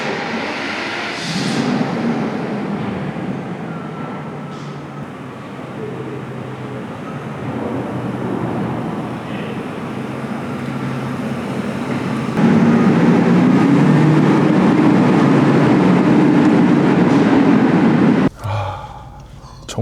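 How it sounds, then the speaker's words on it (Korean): A 1990s Mercedes-Benz S600 V12 idles steadily for a long stretch, a smooth, even hum that grows a touch louder partway through, with a brief gasp of breath near the start and an abrupt cutoff at the end. "와, 소리가 비행기 소리 같이 난다."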